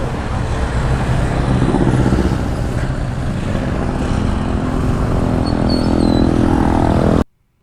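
A group of eight motorcycles sets off on a ride toward Infanta, Quezon, a steady loud roar of engines and road noise that holds throughout and then cuts off abruptly at the end.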